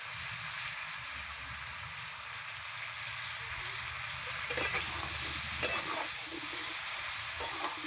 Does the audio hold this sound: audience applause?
no